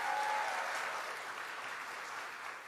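Warm, sustained applause from a crowd at a New York governor's announcement, a dense steady wash of clapping for Senator Chuck Schumer, fairly distant and even throughout.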